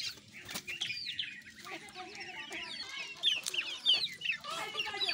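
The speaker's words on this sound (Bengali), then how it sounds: "আপনারা দেখতেছেন আমার খাঁচায় দেশি মুরগি পালন।" Native hens clucking and squawking inside a cage, with bursts of rooster-like calls and brief wing flapping, close and continuous over a quiet background.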